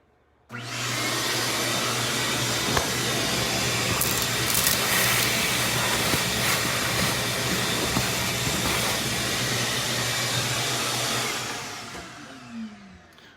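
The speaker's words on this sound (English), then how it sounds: "I'm going to go ahead and take my vacuum to it again." A vacuum cleaner runs steadily for about eleven seconds while cleaning out a coffee grinder, a loud sustained whine with a low hum underneath, then cuts off and winds down.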